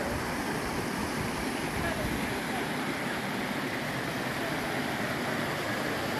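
River water rushes steadily during a trekking river crossing in the Tucumán yungas near Tafí del Valle, a loud, continuous broadband wash with no breaks.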